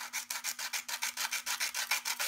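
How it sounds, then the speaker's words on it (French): A wooden pencil being turned in a sharpener gives a dry, rhythmic rasping scrape, about fifteen even strokes in quick succession, close and moderately loud with no voices. "je vais tailler mon crayon"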